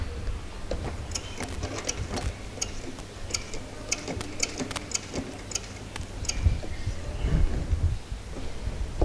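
A sewing machine stitches a garment close up, a steady mechanical whirr with rapid ticking needle clicks that runs continuously, with brief bumps and handling noises toward the end.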